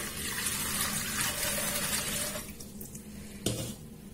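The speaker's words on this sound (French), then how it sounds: "vous commencez par prendre de l'eau et vous le mettez dans votre bol" Tap water runs steadily into a bowl in a home kitchen, a continuous close splashing pour that eases off partway through, followed by a brief clatter.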